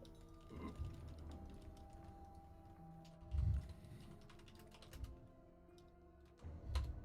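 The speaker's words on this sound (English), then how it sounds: "Wait, are you typing? You typing?" Someone types on a computer keyboard: faint, quick clicks run steadily under a low room hum, with a few louder bumps.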